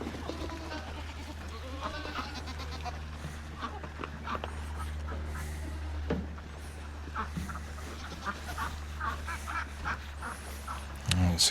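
Ducks quack on a farm during egg collection, scattered calls over a constant low hum, with a person talking nearby at times.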